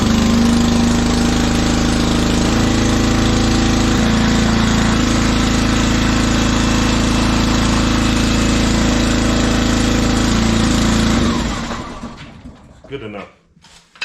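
A small gasoline engine on a log splitter runs loud and steady after a pull start, holding a constant drone for about eleven seconds before cutting off and winding down to quiet clicks.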